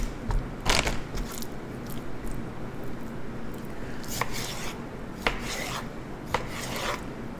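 Chicken breast being chopped with a knife on a board, a steady rasping cut layered with several sharper, isolated knocks, close and moderately loud with no talking.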